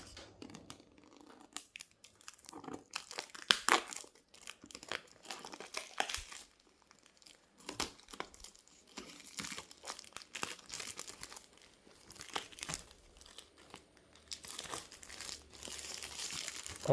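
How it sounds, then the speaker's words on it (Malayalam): Sticker being peeled off a Nord CE 5G phone box, heard as close crinkling and tearing plastic in irregular bursts with quiet gaps between them. "സോ നമുക്ക് സ്റ്റിക്കറിൽ നിന്ന് തന്നെ പീൽ ഓഫ് ചെയ്ത് തുടങ്ങാം."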